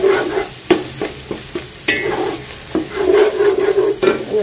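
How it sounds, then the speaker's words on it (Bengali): Egg fries lightly in a pan, a soft sizzle broken by repeated scraping taps of a spatula as it is turned and stirred, close and fairly quiet with no talking. "ডিমটা এক সাইড করে হালকা করে একটু ভেজে নিলাম"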